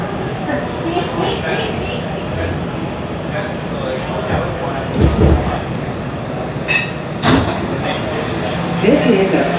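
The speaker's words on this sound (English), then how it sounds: "Stand clear of the closing doors, please." Loud rumble inside an R211A C subway car in New York with a few sharp thumps and a brief hiss as the doors slide shut, amid ongoing train noise.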